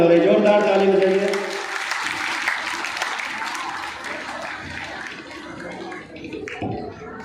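Audience applause at a Bhagwat Katha religious gathering, loud clapping that swells at the start and then trails off into scattered claps, with a voice speaking over the crowd.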